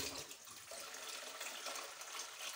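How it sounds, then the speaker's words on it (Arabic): Water pours steadily into a container for homemade lemon juice, a soft continuous splashing stream close by. "غادي ندير الماء"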